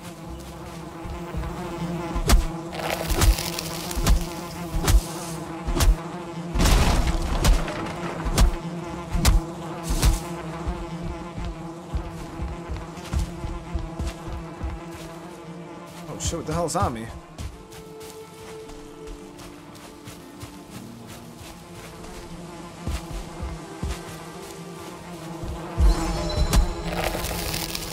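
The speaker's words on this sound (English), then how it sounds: "am I gonna get attacked by a swarm of bees?" A swarm of bees buzzes loudly and continuously around a beehive in Valheim, a dense droning hum with sharp cracking hits scattered throughout, while someone talks briefly over it.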